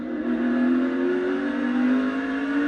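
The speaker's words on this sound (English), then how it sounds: "that engine noise and the tone of those RPMs" Steady, loud drone of a NASCAR stock car engine held at high RPM on track, a sustained buzzing tone that climbs slightly in pitch without a break.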